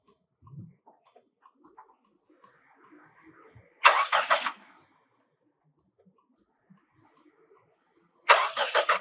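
Car engine cranked twice, two loud bursts of starter grinding and sputter separated by a pause, with faint voices and small noises in between.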